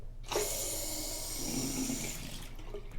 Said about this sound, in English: We could turn our water back on.